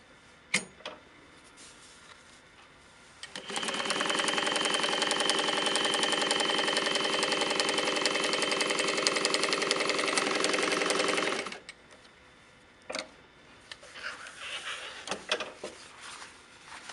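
Juki DU-1181N industrial walking foot sewing machine runs one steady, loud stitching pass of about eight seconds, with a few faint handling clicks before and after.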